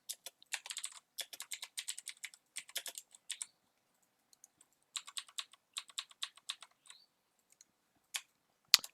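Computer keyboard typing in quick bursts of close, crisp key clicks, with short pauses between runs as account details are entered; no voices.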